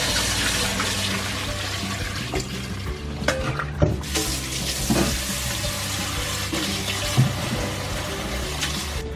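Sweet potatoes are washed by hand in a basin of water to rinse off starch, with a steady slosh and swish, occasional knocks of the potatoes against the bowl, and brief splashes throughout.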